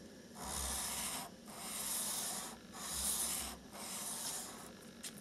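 Sanding a milled cut on a model railway terminus part over 1000-grit sandpaper on a glass plate: four rhythmic back-and-forth rubbing strokes, soft and close, with no talking.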